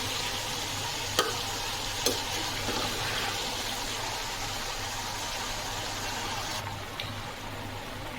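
Jujube fruit (kul) is stirred and fried on high heat, giving a loud, steady sizzling hiss throughout with a few faint clicks from the spoon against the pan.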